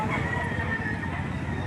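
A gamecock crows at an outdoor rooster sale, the call fairly loud and near over a dense, noisy background on a rainy day.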